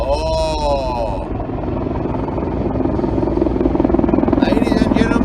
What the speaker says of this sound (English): We just had a flyover by an AH-64 Apache.